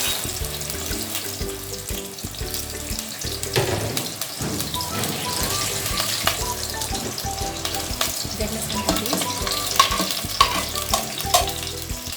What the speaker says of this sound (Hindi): फ्राई कर लेंगे थोड़ा सा।